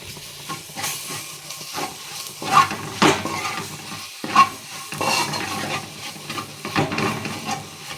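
Soya chunks frying with spice powder while being stirred, a steady sizzle and hiss broken by repeated scraping and clacking strokes of the spoon against the pan, close and fairly loud.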